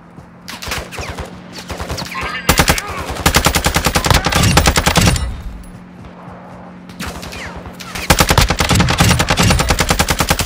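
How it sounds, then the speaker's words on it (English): Hostile machine gun fire in Call of Duty Warzone DMZ rattles out in several long, rapid bursts separated by short pauses, loud and close, with quieter stretches of ambient game noise between volleys. "Eyes on an enemy fire."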